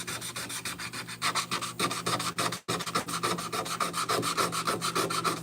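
Hand sanding with 180-grit paper on the firewall of a 1963 Impala produces a rapid, even back-and-forth rasp of strokes, close and continuous with one brief pause midway.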